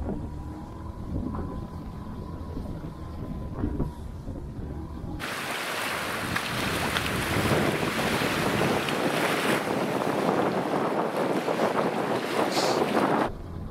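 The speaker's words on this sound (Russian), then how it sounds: "ветер хороший, в морду винт" Strong wind sweeps across a large lake in Karelia and boat-driven waves rush and splash. Dense, loud, continuous noise swells sharply after a quieter start, with no voices.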